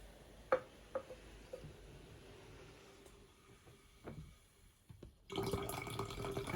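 Canned lemonade is tipped from cans into a container, with faint drips and small clinks, then a steady fizzing pour of liquid that swells loudly near the end.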